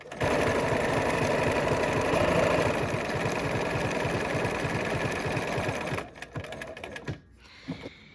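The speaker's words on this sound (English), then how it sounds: "I like to sew with my needle down" A sewing machine stitching a quilt sampler with the needle set to stop down runs in a fast, even mechanical chatter for about six seconds, then halts, leaving a few soft clicks and handling noises.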